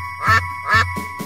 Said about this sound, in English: Mother duck called with a quack, quack, quack.